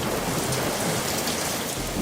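Steady rain pours outside during a thunderstorm, a dense, continuous hiss with low rumbling beneath, loud and unbroken throughout with no talking.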